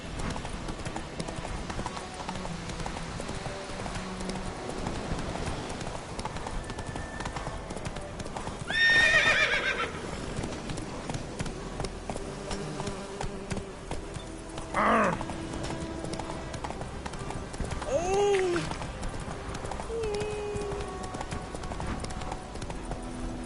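Horse hooves clip-clop steadily in The Witcher video game, with a few short neighs and whinnies rising above the trotting at moderate distance, over a faint ambient background.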